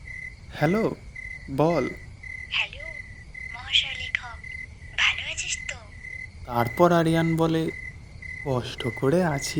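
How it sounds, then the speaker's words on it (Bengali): A steady, high night-time cricket chirp runs beneath an audio-drama phone conversation between a man and a woman, continuing faintly the whole time under their voices. "আর ঝিঝি পোকার ডাক শোনা যাচ্ছিল।"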